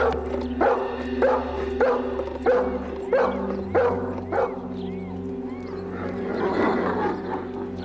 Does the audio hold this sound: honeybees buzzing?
no